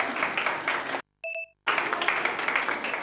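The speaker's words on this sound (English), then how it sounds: "Please give him a huge round of applause." Applause from a conference audience at a technical symposium, dense clapping broken by a brief silent gap with two short tones, then resuming at similar strength.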